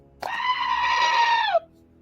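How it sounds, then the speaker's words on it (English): A comical goat scream sound effect from a novelty stress relief button: one loud, sustained, harmonic bleating shriek of about a second and a half that ends abruptly, heard alone. "the funny goat screams for stress relief button"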